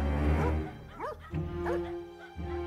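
Dogs caught on a surveillance camera in Costa Rica give a few sharp barks and yips with a whimpering edge, spaced irregularly over a droning background hum.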